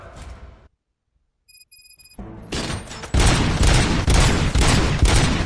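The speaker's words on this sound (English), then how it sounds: "Gunshots? What's going on?" Gunfire erupts in the video game RoboCop: Rogue City, a loud, dense fusillade that follows a brief silence and a short electronic tone, then keeps going in heavy repeated bursts close up.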